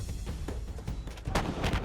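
M777 ultra-light howitzer firing Excalibur precision artillery rounds during a test at Pokhran, with a few sharp booms and crackling blasts over a rumbling, noisy background.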